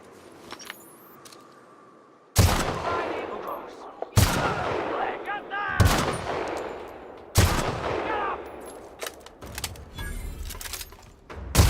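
Several loud bursts of assault rifle fire from The Outer Worlds video game, each a sharp crack followed by a rapid rattling volley, separated by short pauses, with faint background noise between them.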